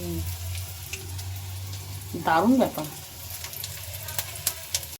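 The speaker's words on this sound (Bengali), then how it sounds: "মা ভাজছে মনে হয় পেঁয়াজি" Onion fritters (peyaji) frying in oil make a faint, steady sizzle in the background, with a brief spoken remark midway.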